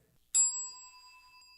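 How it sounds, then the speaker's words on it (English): A single bright bell strike sounds close and clear, then rings on with a steady metallic tone that slowly fades, with no one talking. "I'm trying out new bell rings."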